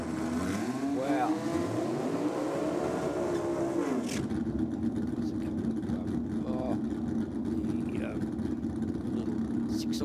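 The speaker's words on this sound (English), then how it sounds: "Six-cylinder front engine dragster of Gary Durrington" Six-cylinder front-engine dragster at a state championship drag racing round at Sydney Dragway, engine noise roaring loudly throughout, with a sharp shift in tone partway through as the run continues, a commentator talking over it.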